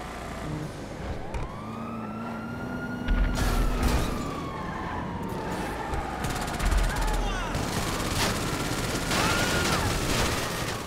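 Gunfire in a Grand Theft Auto game blends with a wailing siren that rises and falls over a dense, constant bed of game noise, with occasional louder bursts.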